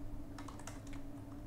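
Quick, light clatter of keys on a computer keyboard as a command is typed at a Windows command prompt, a short irregular burst of clicks heard close up against a low steady hum.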